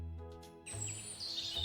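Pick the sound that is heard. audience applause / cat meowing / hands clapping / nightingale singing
nightingale singing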